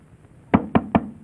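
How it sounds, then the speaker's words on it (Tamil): Three firm, evenly spaced knocks land on a door, close and distinct, over a quiet room background. "இது இவ்வளவு நேரம் கதவு தட்டறான், ஏன் திறக்கல?"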